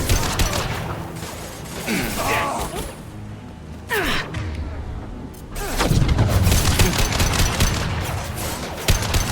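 Gunfire in the video game Mass Effect 2 comes as loud, close bursts and booming shots mixed with combat grunts, gasps and game voices, with a lull midway before the firing picks up again.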